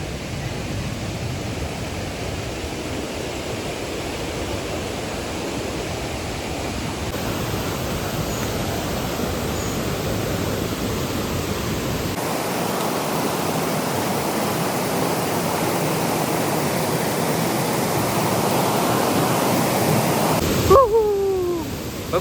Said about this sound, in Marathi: बघू शकता सुंदर असा वॉटरफॉल. इकडून पाणी येते एकदम जोरात